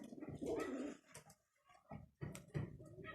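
Pigeons coo repeatedly in low, throaty bursts close by, with a brief pause between phrases and soft background noise.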